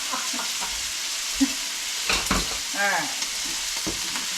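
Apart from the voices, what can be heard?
meat frying in a pan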